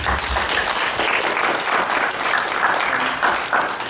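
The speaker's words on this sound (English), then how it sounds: "Give you another round of applause, please" A full round of applause from an evening audience at a community talk on GMOs in Hawaii, dense even clapping from many people that holds steady, with no talk over it.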